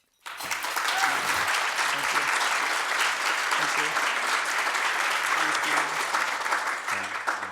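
An audience at a City Club of Cleveland forum breaks into sustained applause welcoming a panel, starting abruptly and holding a dense, even roar of clapping throughout.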